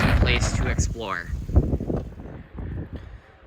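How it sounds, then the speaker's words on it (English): Strong wind blows outside a cave at Jebel al-Mauta in Siwa Oasis, Egypt, buffeting the microphone with loud low rumbling gusts under a person talking. "it's just so windy outside"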